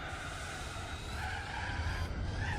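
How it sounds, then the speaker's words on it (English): Tires skid in Gran Turismo 4 during the Fuji 1000 km race in an Escudo: a faint, sustained synthetic squeal that runs unbroken and slightly wavering for a couple of seconds. "This game is notorious for having bad car noises."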